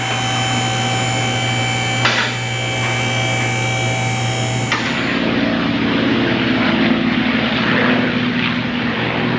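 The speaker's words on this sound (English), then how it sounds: "The P-51s are out today." P-51 Mustang propeller aircraft passing overhead, a loud sustained engine drone with a steady tonal hum heard from an auto repair shop, the pitch shifting as it goes by, no talk.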